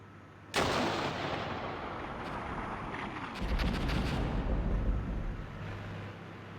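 Mortar and artillery fire in the Armored Brigade war game: a sharp blast opens a sustained rumbling barrage, with a second surge of heavy booming midway, loud and continuous with no talk.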